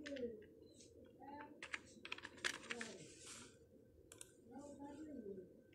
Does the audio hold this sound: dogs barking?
no